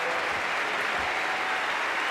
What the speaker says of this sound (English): And look at the Australians all clapping.